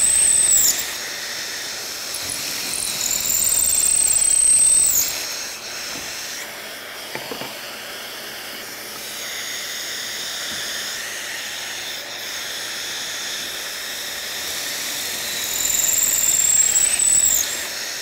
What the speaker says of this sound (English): Keep in mind, we're only drilling in one end of each piece.